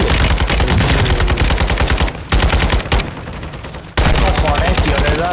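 Rifle gunfire in Call of Duty: Modern Warfare II, loud rapid automatic bursts with a brief pause before firing resumes, close and dominant.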